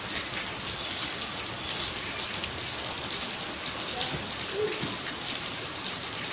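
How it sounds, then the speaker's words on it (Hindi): Light, steady rain falls on surfaces around a resting spot in Rishikesh, a soft continuous patter with scattered drops, close by and unbroken, with no voices. "थोड़ी थोड़ी बारिश हो रही है, ज़्यादा तेज़ भी नहीं हो रही।"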